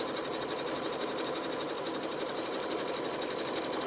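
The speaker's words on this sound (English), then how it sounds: "So I literally just draw in with my sewing machine." A sewing machine runs steadily as it stitches wiggly free-motion lines into fabric, a close, continuous mechanical whir with no pauses.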